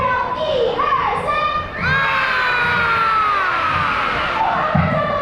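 A crowd of young children at a kids' amusement park shout together as loudly as they can on a count, a sustained, dense burst of high voices that swells, dips briefly, then surges again.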